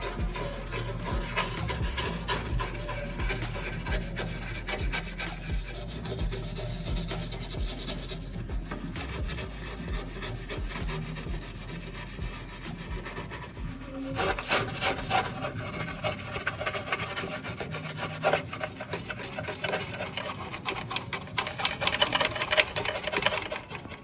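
Stiff brushes scrubbing coating off the metal of a Mazda RX-7 FD engine bay, a steady dense scraping and rubbing that continues with varying strokes for the whole stretch, louder toward the end.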